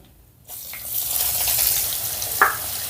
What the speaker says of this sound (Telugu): ఈ అల్లం వెల్లుల్లి లేత బంగారు వర్ణం వచ్చేంత వరకు ఫ్రై చేసుకుందాం